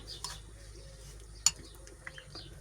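Quiet stirring of a tomato and cheese mixture in a bowl, with soft scraping and a few light clinks of a utensil against the side, one sharper tap midway.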